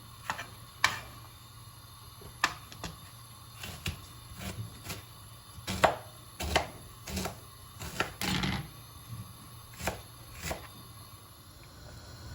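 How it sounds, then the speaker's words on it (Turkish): Sharp knife taps on a cutting board as quince is chopped small, irregular but steady chopping strokes, close and fairly quiet, with no voices. "ince ince küçük küçük doğruyorum."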